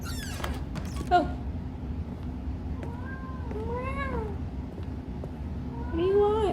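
A cat meows a few times in The Stanley Parable video game, short rising and falling cries spaced apart, fairly faint over a low steady background hum.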